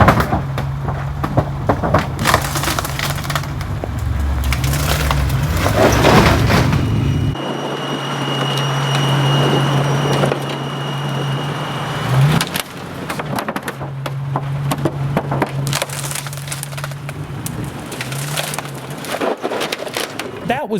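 A Land Rover Defender climbs a wooden ramp laid over an Audi and a Kia, with a low, steady engine drone under loud creaks, knocks and cracking of wood that peak in a sharp thud midway.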